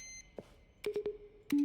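Electronic beep tones mixed with keyboard typing from the video game The Stanley Parable: a lone soft blip, then a quick run of three clicky beeps and a final longer tone, close and clean.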